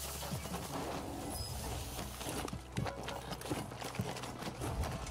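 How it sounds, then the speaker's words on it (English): Footsteps inside a building in Warzone 2, a steady run of soft thuds over constant game ambience, fairly close and without voices. "Now I hear footsteps in the building to my left."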